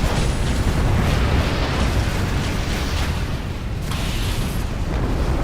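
A shot crate explodes in Halo 2 on the Oracle mission, a loud, dense burst of blast noise and rumble that fills the whole moment, with no voices.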